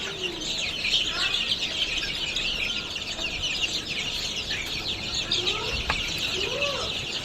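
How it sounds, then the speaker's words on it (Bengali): Farm broiler chickens, a flock of about forty birds some 26 days old, cluck and chirp steadily in a shed, a dense continuous chorus of close and overlapping calls with no talking. "এগুলি হচ্ছে আমার ফার্মি মুরগি"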